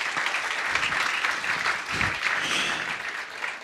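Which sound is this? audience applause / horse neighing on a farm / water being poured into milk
audience applause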